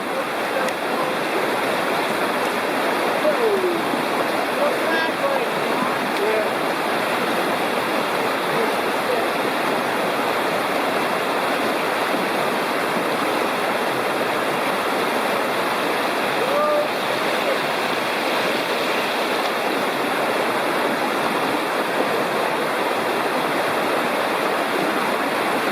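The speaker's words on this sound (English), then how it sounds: "Rapids, waterfalls, whatever." Continuous, loud roar of river rapids and small waterfalls at a creek crossing in the Lost Cove Wilderness Study Area, a close, even rush of churning water with no breaks.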